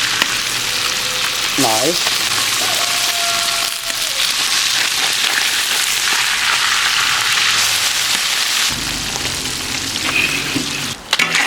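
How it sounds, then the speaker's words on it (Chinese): Small wild-caught river fish pan-frying with a pinch of salt, giving a steady, dense sizzle and crackle that runs throughout, with brief spatula scrapes and a short spoken word near the start. "鱼已经煎的好了啊，不怕碎了"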